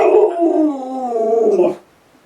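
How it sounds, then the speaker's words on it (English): A dog howls loudly and close for nearly two seconds after jumping onto a person's lap, a long wavering cry that rises and falls in pitch before cutting off into near silence. "being interrupted by the dog jumping on my lap"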